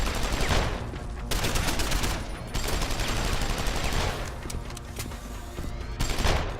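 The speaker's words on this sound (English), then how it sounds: "Just walks towards you while shooting a minigun." Sustained minigun fire in the Deus Ex video game roars in long, dense automatic bursts separated by short pauses, loud and continuous.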